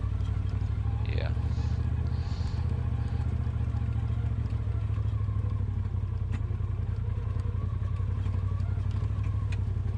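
A Polaris RZR Pro XP side-by-side engine drones steadily in high gear at an easy cruise on Windrock trails in Tennessee, a constant low rumble with light clatter, and a voice talks briefly over it.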